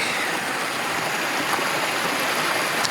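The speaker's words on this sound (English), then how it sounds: "This is a beautiful little creek" Small mountain creek on a Colorado backpacking route near the Maroon Bells, water rushing and burbling steadily close by as a constant bright hiss, no voices.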